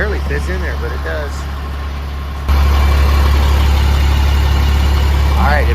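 An old school bus engine idles after refuelling at night, a loud steady low rumble that jumps louder partway through and holds, with people talking over it early on.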